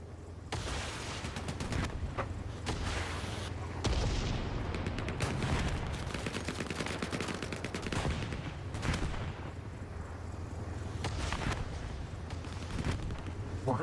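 An American tank crew firing in Hell Let Loose Vietnam during a competitive USA versus NVA match: dense, continuous gunfire and booming shots throughout, with rapid rattling bursts and occasional heavier blasts filling the whole stretch.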